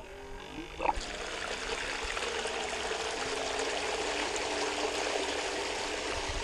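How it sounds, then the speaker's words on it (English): Water running through a homemade fishing modification rig, a steady rushing and trickling flow that holds evenly throughout after a brief knock near the start. "I turn it on now, the water."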